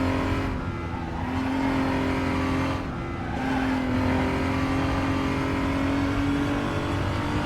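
BMW M235i Cup race car in RaceRoom at Sonoma, engine droning loud and steady with rising and falling revs through gear changes, tires faintly scrubbing under the sustained roar.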